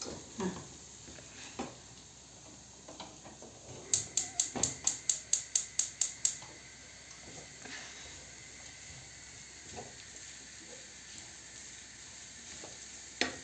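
Onions fry in oil in a home kitchen with a soft, steady sizzle, broken by a quick run of about ten sharp clicks partway through and occasional light knocks, with no voices.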